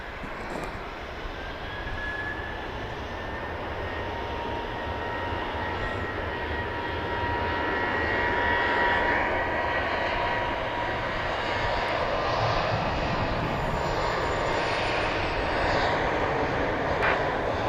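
Airplane engines roar continuously at Dallas Love Field, a broad steady drone that swells slightly louder midway as an aircraft passes, with faint tonal whine over the rumble.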